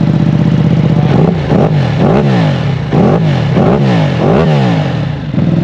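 A Bayliss V2 motorcycle with an Akrapovic exhaust revs up hard several times on a dyno, each loud throttle blip rising and falling over a steady close idle, with no talking.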